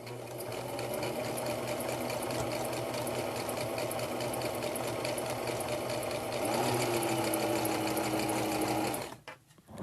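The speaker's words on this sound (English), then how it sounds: "you're letting the machine pull the fabric through, you're not pushing it through" Sewing machine stitching fleece fabric, a fast continuous mechanical whir with a rhythmic needle chatter that shifts pitch partway through, then cuts out abruptly near the end.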